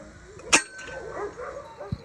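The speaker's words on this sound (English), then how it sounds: "I apologize for the dogs barking." Sled dogs at feeding time, with one sharp close bark followed by scattered yips and whines and a low woof near the end, over a busy background.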